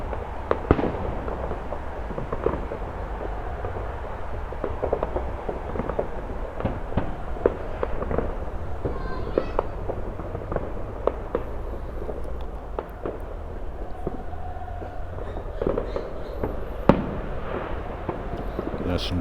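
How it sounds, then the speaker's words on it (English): Distant bonfire night fireworks crackle and pop repeatedly around Goodison Park, with scattered bangs and crackling bursts over a low background rumble, while people talk nearby. "There's some good fireworks going off in the back there."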